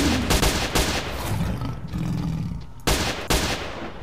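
Gunshots and bursts of automatic fire in S.T.A.L.K.E.R. around Pripyat, loud close shots with a growling creature-like roar between them, and two sharp final shots.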